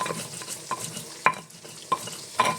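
Tempeh frying in a pan while being flipped, a continuous sizzle broken by several sharp utensil clinks against the pan, close by, with no voices.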